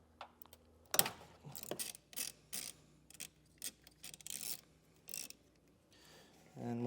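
A socket ratchet loosens a 10mm screw during trailer wiring harness installation on a 2019 Mitsubishi, with faint, quiet bursts of clicking and rasping turns spaced irregularly, followed by a short louder scrape at the end.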